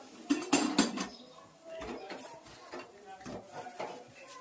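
A metal lid is set onto a pressure cooker in a home kitchen, producing a few sharp clanks and clinks of metal on metal, followed by quieter handling rattles and light scraping.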